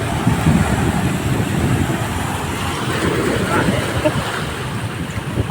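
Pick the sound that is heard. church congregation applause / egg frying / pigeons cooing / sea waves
sea waves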